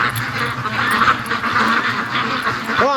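Free-range ducks quack repeatedly nearby, a busy cluster of nasal calls overlapping, with a person's voice briefly audible near the end.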